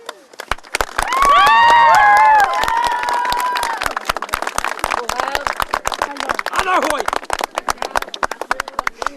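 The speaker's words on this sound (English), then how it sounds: "I would like to ask all the adults here to give a round of applause to the young lads from both sides" A crowd of adults claps and cheers for the under-16 players at the 2009 Westmeath Division 2 U16 Gaelic football final, Moate All Whites against St Michaels. Loud applause swells, then thins to scattered claps, with voices calling out over it.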